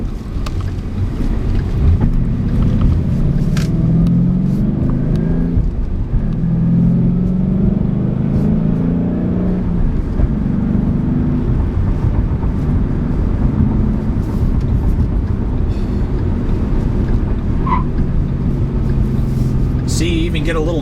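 A 2012 Ford Mustang GT with a 5.0 V8 rumbles and revs while driving on a test drive, a steady low engine drone with shifts in pitch and rushing wind noise throughout.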